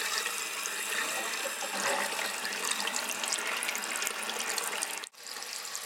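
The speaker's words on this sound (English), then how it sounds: "I'm going to flush the toilet and we'll see how much air comes out of here." A household toilet flushing on a house water system fed by a pump: a steady, loud rush of water from start to finish, cutting out briefly near the end and then carrying on.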